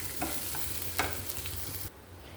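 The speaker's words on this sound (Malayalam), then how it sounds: "നമുക്കത് വറുത്തെടുക്കാം കേട്ടോ" Coriander seeds and dried red chillies dry-roasting in a pan, a soft crackle with a few scraping stirs, faint and brief before it drops away.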